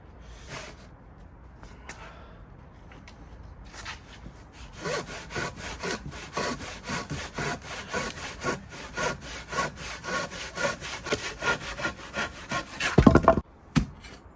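A hand saw cuts through a thick wooden garden sleeper in steady back-and-forth strokes, quiet at first, then louder and rhythmic, ending with a final heavy scrape.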